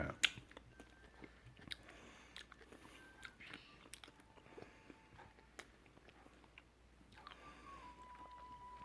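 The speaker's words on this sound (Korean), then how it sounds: "이 먹으면서 찍는 거는 좀 실례가 아닐까요?" Quiet chewing and crunching of food eaten close to the microphone, scattered small bites and clicks over faint room noise, no talking.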